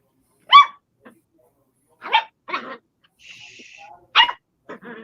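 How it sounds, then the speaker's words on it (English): A dog lets out a series of short, sharp barks and yips with pauses between them, close and loud, with a quieter whimpering whine in the middle. "That's enough barking"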